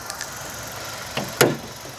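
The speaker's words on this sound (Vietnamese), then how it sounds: "À, máy nổ êm ru luôn." A 2010 Kia Forte with a 1.6 engine idles quietly, giving a soft, smooth, low hum heard up close. Near the end a couple of brief clunks and a sharp click break through.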